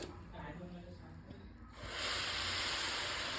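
Hot boiling sugar syrup for rava laddoos is poured onto semolina, a loud steady hissing sizzle that rises abruptly about two seconds in and holds, after softer kitchen noise and faint clinks.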